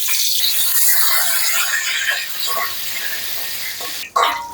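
Raw cumin seeds and two bay leaves sizzle in hot oil for a Bengali sponge gourd and prawn curry. The spitting hiss is loud and close and runs almost throughout, easing near the end, with a sharp clatter just after.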